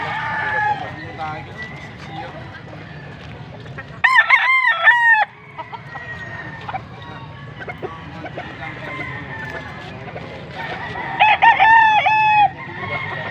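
Two loud, close crows from a gold stag gamecock at a market in Angeles, Pampanga, each lasting about a second, with clucking fowl and ongoing chatter and talk throughout.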